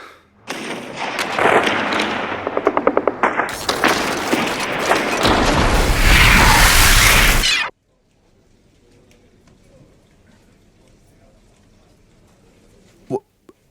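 Gunfire in a radio drama depicting a military attack: a dense, loud barrage of rapid shots and booms for several seconds, cutting off abruptly to near silence, then one sharp late crack.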